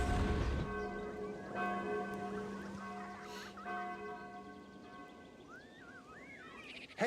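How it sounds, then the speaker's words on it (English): Alarm bells ring in the video game Sudeki, a sustained tolling chime with lingering harmonic tones that fade under a quieter game backdrop, with a few faint chirping effects near the end. "Hey, Tal, the alarm bells are ringing."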